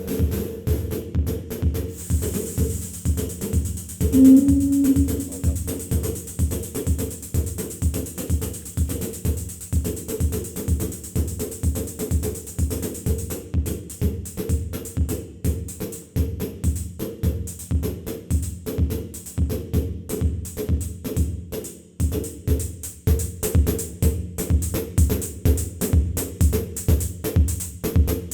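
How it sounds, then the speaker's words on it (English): A steady electronic drum pattern loops at an even tempo, punchy low kicks with crisp high hats ticking throughout, continuous and fairly loud with no voices. "So let's say I have a drum pattern, something here."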